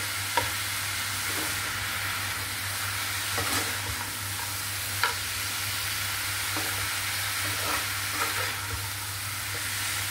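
Bottle gourd greens (lau shak) frying in a pan, a steady close sizzle broken by several distinct spatula stirs and scrapes, with a low background hum and no speech.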